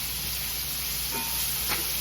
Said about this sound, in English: So I'm frying it with these crumbs.